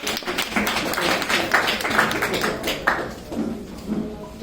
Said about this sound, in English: Let's clap her.